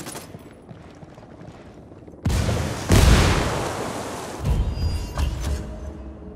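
A frag grenade detonating in the game Ghost Recon Wildlands, a loud sudden boom followed by a second heavier blast and a rumbling tail with debris rattling, after a quieter stretch of background ambience.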